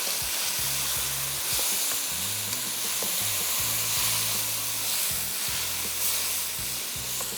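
Tomatoes, lemon juice and salt sizzle and fry steadily in a hot pan, a continuous close hiss with low stirring bumps and scrapes throughout, no voices.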